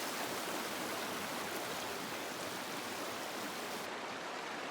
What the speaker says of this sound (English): This is another lovely rocky stream.